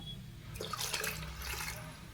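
Water is poured into a cooking pot while making bassaaru sambar. A close, noisy splash lasts about a second over a low background hum.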